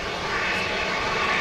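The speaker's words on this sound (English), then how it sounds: "Embraer 145 arriving here at Manchester." Embraer 145 regional jet arriving at a windy Manchester Airport, a steady broad engine roar held at an even level throughout, heard alone without speech.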